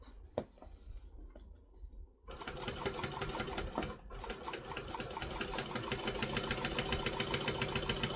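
A sewing machine stitches around the edge of a Kangaroo bag: short bursts at first, then a long steady run of rapid needle chatter, close and alone.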